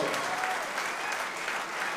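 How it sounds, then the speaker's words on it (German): A crowd at a boxing event applauds both fighters after a knockout, a steady wash of dense clapping and cheering throughout the brief moment. "Applaus für beide Kämpfer"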